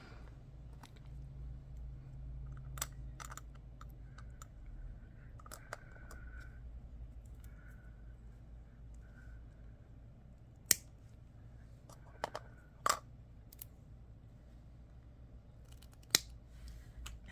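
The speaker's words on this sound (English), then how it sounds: "you don't need them sharp to cut these little shanks off" Small metal button shanks snipped off with cutters in a quiet room, a handful of sharp isolated clicks spread apart over steady low background hum.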